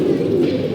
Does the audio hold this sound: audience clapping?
no